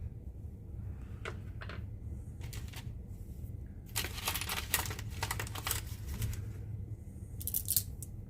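Rocks are grabbed and spread across a surface, with scattered faint clicks and scraping clatters over a low steady background hum.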